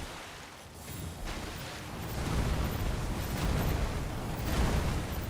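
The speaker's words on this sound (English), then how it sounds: "I didn't think that move would have a second explosion." Boss attack explosions from Elden Ring: Shadow of the Erdtree, heard as a loud, sustained rumbling blast that swells and holds for several seconds, dense low-end roar with crackling debris.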